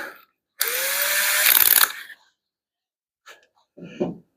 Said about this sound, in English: Let's just do a pre-hole once. I think this bit here is good.